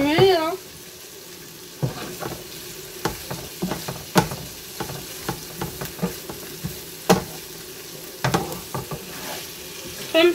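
Onions fry in oil from canned tuna, a steady sizzle under repeated sharp scrapes and clacks of a utensil stirring the pan, with brief speech at the start.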